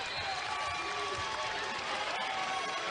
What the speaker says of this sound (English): Well-deserved standing applause for the yeoman's work that Paul Reed put in tonight.